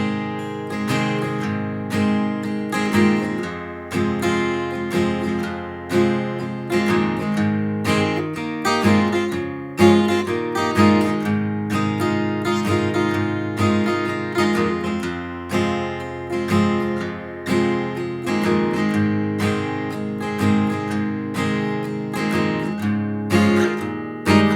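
Acoustic guitar with a capo strums the two chord progressions of a song, a verse and chorus pattern played steadily and loud for about twenty-five seconds, with no voices.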